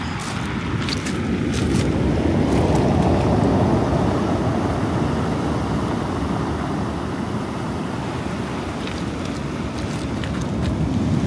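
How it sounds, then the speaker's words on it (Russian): Loud, continuous roar of heavy storm surf on the Black Sea at Batumi, waves crashing and churning without pause, with wind buffeting the microphone. "Блин, какие же тут волны, просто обалдеть."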